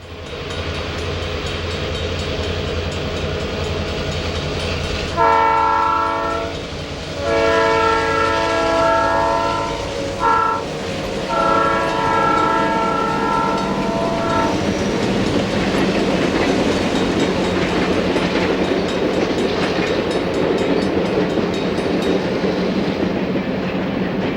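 A B&O freight train hauled by two Jeep locomotives passes through Romulus on a winter day, sounding its horn in several blasts over a steady rumble and wheel clatter that grows as it rolls by, with no talk.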